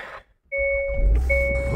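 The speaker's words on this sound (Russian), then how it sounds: "О, завелась, будь здоров." A Hyundai Sonata that had sat parked since August cranks and catches after a short silence, settling into a loud, steady idle close by while a thin electronic chime sounds over the engine.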